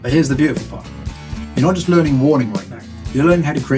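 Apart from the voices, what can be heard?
No everyday noise stands out behind the speech.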